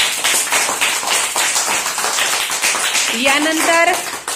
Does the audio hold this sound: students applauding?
yes